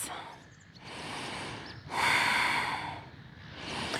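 Slow, deep yoga breathing close to the mic: a soft exhale, then a fuller breathy inhale and release, with another breath beginning at the end, no talk.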